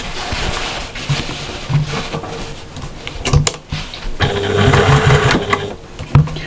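A sewing machine basts a strap onto a patchwork shopper bag, its needle running in short, steady bursts with brief pauses, close and moderately loud with no talk.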